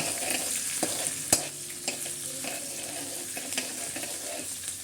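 Green chilies fry in a pan for poha, giving a continuous soft sizzle with scattered clicks and scrapes of stirring and one sharper knock partway through, with no one speaking.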